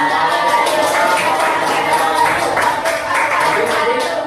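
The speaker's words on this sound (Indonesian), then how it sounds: "Nah, tepuk tangan." Students in a classroom clap together, a sustained patter of many hands, loud and near, rising and thinning slightly, with voices mixed in beneath.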